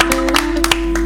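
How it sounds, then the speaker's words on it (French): A few people clapping at a live music event, sparse uneven claps over about a second above a steady hum, with no voices. "on applaudit très fort."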